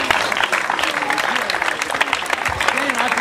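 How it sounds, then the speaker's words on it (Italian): Applause for an organiser at a village bread-festival tournament, steady dense clapping from a crowd throughout, fairly loud and close, with speech-like voices mixed in. "Gli facciamo un bel applauso."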